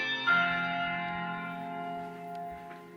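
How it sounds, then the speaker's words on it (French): A synthesized church bell played through an Alexa smart speaker, with a single strike followed by a long ringing, reverberant tone that lingers steadily and fades only slightly. "Mets le bruit d'une cloche d'église"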